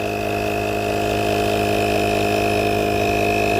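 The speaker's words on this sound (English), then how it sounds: "Look at that tire pumping up." A portable Astro tire inflator pumps up a completely flat tire, giving a steady, loud motorized hum with a sharp tonal whine that stays constant throughout.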